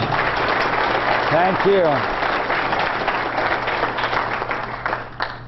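Audience applause fills a room at a June 2014 ASUG Ontario meeting. Dense, steady clapping holds for several seconds with a faint electronic whine early on, and a brief spoken thanks is heard over it.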